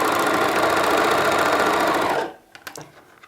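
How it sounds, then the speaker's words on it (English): An overlocker serger stitches fabric around a corner in a fast, even mechanical whir for about two seconds, then stops abruptly, followed by a few light clicks and snips. "And I sew off."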